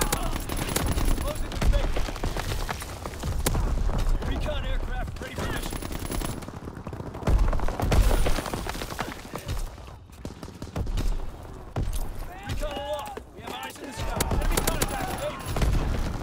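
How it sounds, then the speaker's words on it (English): Division artillery fires in a video game battle, a continuous roar of heavy rapid blasts and gunfire with game voice callouts mixed in. "Firing division artillery."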